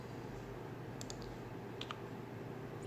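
Light, sparse keystrokes on a computer keyboard in a quiet room during AutoCAD work, a brief cluster of clicks followed by a couple more taps over a low steady hum.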